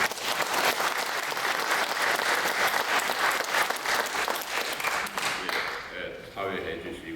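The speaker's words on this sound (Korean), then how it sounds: "우리 목사님께 박수 한번 받고" A congregation at a breakfast worship service claps for the pastor, with rhythmic, fairly close applause that ends abruptly as a voice begins speaking.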